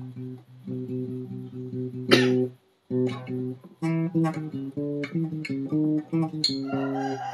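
Repeated plucks of a guitar's fourth string whose pitch rises step by step as the tuning peg tightens it, with squeaky string noise between notes.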